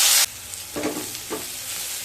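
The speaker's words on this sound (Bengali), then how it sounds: "পেঁয়াজ আর রসুনকে খুব ভালো মতো ভেজে নেব" Onion and garlic frying in a pan, a loud burst of sizzle at the start, then quieter frying with a couple of stirring scrapes, no voices.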